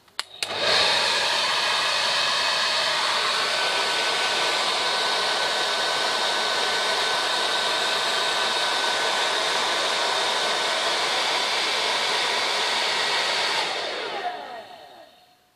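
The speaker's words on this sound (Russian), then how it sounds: "При нагревании термопары до температуры 35 градусов, что я сделал с помощью фена" A hair dryer blows steadily for about thirteen seconds to heat the thermocouple of a portable TERMOKON-UB thermostat, a loud, even whooshing roar that clicks on and then winds down at the end, with no talking.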